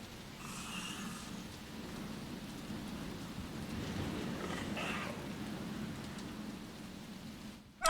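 Steady rain patters inside the Resident Evil 2 video game, a soft even wash throughout with a faint low rumble of distant thunder, heard alone without talk.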